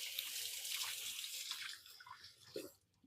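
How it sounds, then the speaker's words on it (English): Running kitchen tap water splashes over hands during a quick rinse, a steady, soft hiss that thins out near the end. "I'm gonna give my hands a quick rinse."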